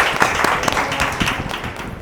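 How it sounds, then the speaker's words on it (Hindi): An indoor audience at a direct selling marketing-plan session claps together for Priyanka, a brief burst of dense, close applause that fades slightly toward the end. "बार ताली बजा सकते हैं प्रियंका जी के लिए"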